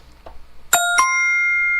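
A trading-platform alert chime, two bright ding-dong tones struck in quick succession that ring on with a long clean sustain, alone and fairly loud after a moment of faint background.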